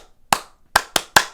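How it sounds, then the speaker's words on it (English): A crowd in a megachurch claps in unison: four sharp, loud claps in a quick uneven rhythm, with quiet between them. "And then they're doing the clapping thing."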